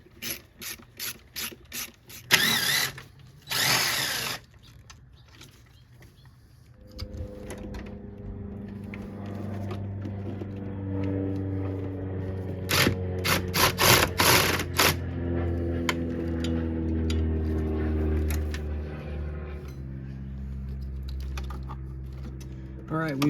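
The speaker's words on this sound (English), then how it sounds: "we're going to go ahead and take these bolts off and try to see if we can't get this valve cover free" A ratchet wrench loosens valve cover bolts on a Toyota 5VZ-FE 3.4L V6 engine, with close, loud bursts of rapid clicking separated by pauses and a low engine-bay hum running through the middle.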